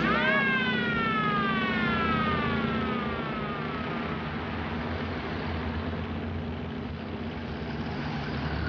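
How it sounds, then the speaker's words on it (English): Police car sirens wail in repeated sweeping tones over a low engine rumble, several cars and motorcycles together, the sirens loud at first and then fading into a steady drone. "Scads of police cars and motorcycles."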